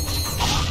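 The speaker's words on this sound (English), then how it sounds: "I love the sound of those gears in the background" Mechanical gears and clockwork machinery turning in a Ratchet & Clank: Going Commando level, a steady low churning and creaking drone that sits in the background of the game mix.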